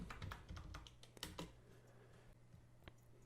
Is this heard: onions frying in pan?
no